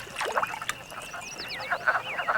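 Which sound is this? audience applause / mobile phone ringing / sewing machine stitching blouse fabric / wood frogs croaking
wood frogs croaking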